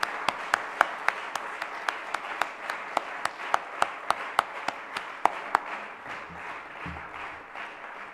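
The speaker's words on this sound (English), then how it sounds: "Let us please give them a warm round of applause." Audience at a 98th birthday program applauding young adults, a warm spread of clapping with a prominent close clapper beating a quick steady rhythm, fading out over the last couple of seconds.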